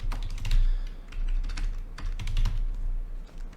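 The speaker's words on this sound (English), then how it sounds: "So I'll type in the cards now" Keys clatter in quick, uneven bursts as cards from 2021 Leaf Draft blaster boxes are typed into a computer keyboard, close and fairly loud over a low steady hum.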